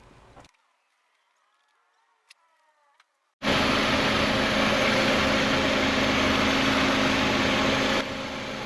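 A car engine is started after a few quiet clicks and then runs steadily while warming up, a loud, constant close-up drone that holds for several seconds and drops slightly near the end.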